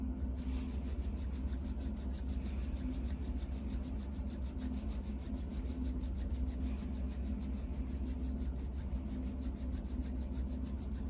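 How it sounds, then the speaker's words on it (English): Palms rub briskly together in a steady, continuous dry swish that runs unbroken throughout, close and fairly soft over a low background hum. "So rub the palms of your hands together while you count to 10 in your head."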